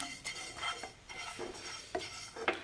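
Sesame seeds dry-roasting in a pan for a chicken masala, stirred with a utensil that scrapes and clinks in short bursts, soft and close, no talk.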